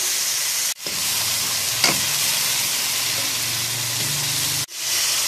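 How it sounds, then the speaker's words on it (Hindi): Chicken sizzles loudly in a pan with browned onions and ghee, a steady frying hiss running throughout with a brief stir partway and two short breaks in the sound. "ठीक है, इस तरह से हम अपने चिकन को जो है फ्राई कर लेंगे अच्छी तरह से।"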